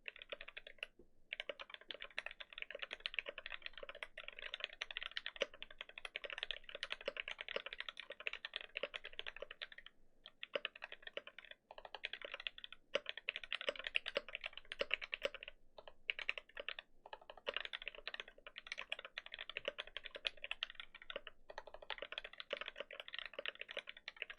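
Steady, fast typing on a mechanical keyboard with soft, muted clacks, continuous for a long stretch with brief pauses, close and alone.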